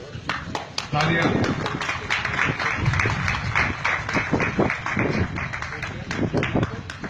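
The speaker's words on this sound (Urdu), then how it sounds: "تالیاں" A political rally crowd for young Pakistani leader Shaheer Sialvi breaks into applause, many quick sharp claps forming a dense, steady patter, with voices mixed in underneath.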